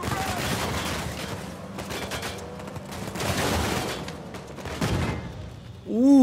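Bursts of gunfire in Uncharted 4, rapid volleys rising and falling over several seconds amid game ambience, ending with a louder tonal sound.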